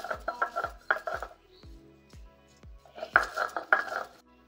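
Dried red chili and cumin crushed by hand in a home kitchen, a run of sharp knocking and grinding strikes in uneven bursts, close and fairly quiet, with a short pause midway.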